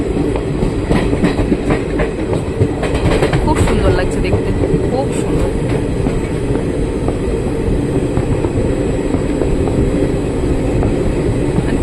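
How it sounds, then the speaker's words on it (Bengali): A passenger train running slowly and many hours late rumbles steadily with faint rhythmic clatter from the wheels, loud and continuous, while a person briefly speaks over it. "ট্রেনের স্পিডটা এতটাই স্লো করে দিচ্ছে"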